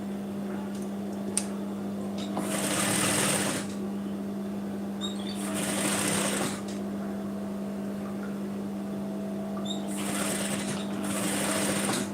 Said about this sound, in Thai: ในส่วนของแขนอีกข้างหนึ่งเราจะเย็บสุดเลยนะคะ